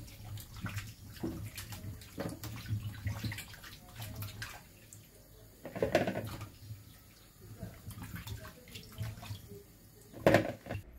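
Meaty tomatoes rinsed under running tap water in a kitchen, with splashing bursts and clinks against a steady flow; a voice speaks over parts of it.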